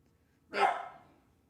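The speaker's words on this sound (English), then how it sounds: "He's getting ready to bark at the neighbors." A single dog bark, moderately close and fairly quiet, standing alone against a near-silent indoor background.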